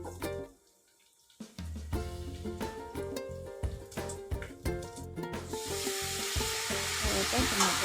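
Turmeric and chili powder dropped into hot oil tempering in a pan, a soft pause then a burst of crackling sizzle that builds into steady, close frying with scattered pops and stirring taps.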